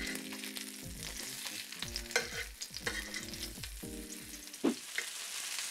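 Thin pork katsu cutlets, about a quarter inch thick, frying in a pan, a quiet hissing sizzle broken by clinks and knocks of a utensil moving them, close and without talk.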